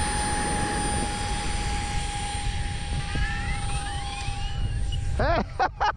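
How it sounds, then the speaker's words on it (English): A small 40-inch EDF RC jet sailplane flies in strong wind, giving a steady electric ducted-fan whine that rises and falls. Sharp fluctuating bursts come near the end. "She's a sailplane, an EDF sailplane."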